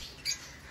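African lovebirds in a large aviary give a single brief squawk against a faint, hissy background, fairly close and alone.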